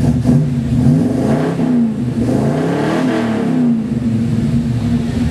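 An old car engine revs hard and steadily after a cold start, a loud, continuous close-up drone that rises and falls in pitch through several throttle swells.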